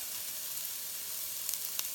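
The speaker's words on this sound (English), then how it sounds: "I'm gonna cook it a little bit, saute it." Onions and garlic sauté in a pot after bacon, producing a steady close sizzle with a few faint crackles and pops toward the end.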